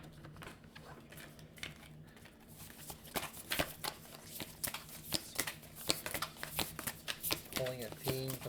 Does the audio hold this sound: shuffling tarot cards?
yes